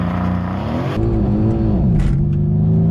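Mercedes-AMG C63 S Coupe Edition 1 launching under launch control, its engine roaring loudly as revs climb and fall through a quick shift, the pitch sweeping upward again, close and unbroken for three seconds.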